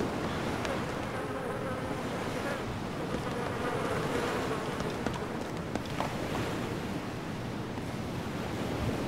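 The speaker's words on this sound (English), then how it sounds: "Hear some bees somewhere." Bees buzzing in the survival game DayZ. The hum is steady and diffuse, fairly faint, and sits inside a broad outdoor hiss with no talking.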